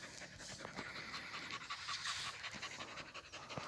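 Hunting dog panting rapidly close by, quick rhythmic breaths repeating throughout, quiet but clear with no talk.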